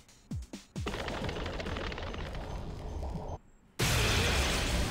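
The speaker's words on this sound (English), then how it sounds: "Oh, explosion!" A burst of explosion and gunfire effects from the gacha video game Romancing SaGa Re: Universe, loud and sustained with rapid crackling pops, a brief drop in the middle, then a louder blast that carries to the end.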